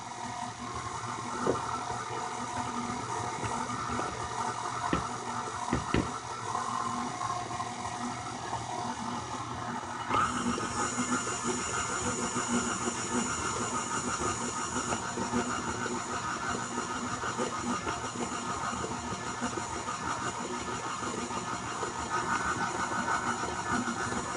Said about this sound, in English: Or you could just turn the blender off and scrape down the bowl.